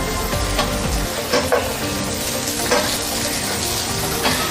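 Beef and onions fry in a pan for a wet fry beef dish, giving a steady, loud sizzle with occasional stirring scrapes. The sizzle stays close and continuous with no talking.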